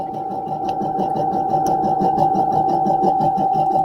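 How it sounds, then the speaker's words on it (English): A sewing machine runs steadily at medium speed, a close, loud continuous motor hum with a fast, even needle chatter throughout and no pauses. "I like to kind of sew at a medium speed when I'm using this."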